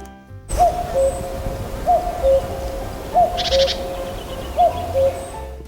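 A cuckoo gives its two-note call, a higher note followed by a lower one, four times at an even pace, clear and close against quiet background hiss.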